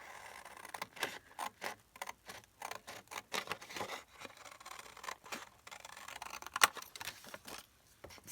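Scissors snip through a printed paper image from a digital kit, cutting out a figure for a junk journal card. Quiet, close, irregular crisp snips and rustles repeat throughout with short pauses between cuts.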